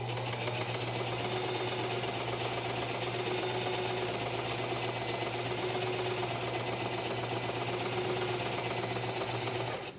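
A home sewing machine runs a long straight stitch of length 4 on a babydoll dress, a steady fast mechanical whir and clatter that goes on for ten seconds and then stops.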